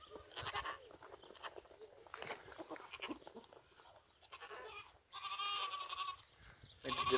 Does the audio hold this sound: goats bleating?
yes